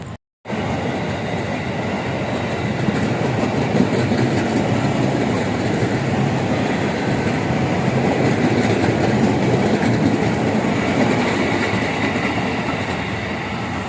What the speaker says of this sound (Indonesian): Komuter Lenjer 205 Marchen masuk stasiun Jatinegara.